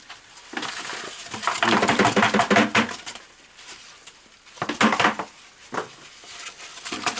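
A dubia roach sifter holding substrate and plant material is shaken and stirred, producing loud rattling, scraping bursts of loose particles, then a quieter pause, another shorter burst and a few light taps.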